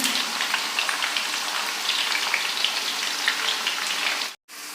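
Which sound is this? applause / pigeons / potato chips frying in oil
potato chips frying in oil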